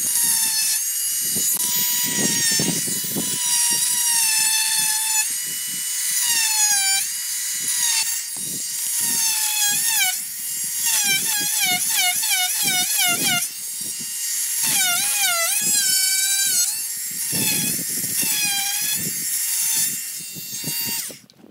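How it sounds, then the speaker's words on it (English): A small multi-tool fitted with a tiny saw blade cuts through hardboard on a heavy-duty DIY garage workbench, giving a steady high buzzing whine with wavering pitch over about twenty seconds, nearby and loud, with short pauses between passes. "I've got a little multi-tool that's got a little tiny saw blade on it that I can go through and just sort of clean that up"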